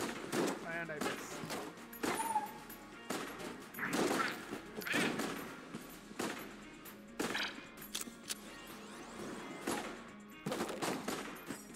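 Gunfire from a sniper rifle in the game Enter the Gungeon, sharp shots going off repeatedly over busy game music and effects, with a voice talking across much of it.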